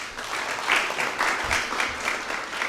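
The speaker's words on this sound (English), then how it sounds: "A round of applause for them." Applause for the St. Martin's Kithuguini debate team at a school knockout contest against Mbooni Girls, a brisk crowd clapping with slight surges, fairly close and steady.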